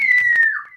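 A whistle blown in one sustained shrill tone that wavers slightly and bends lower toward the end, loud and close, with brief soft noises around it.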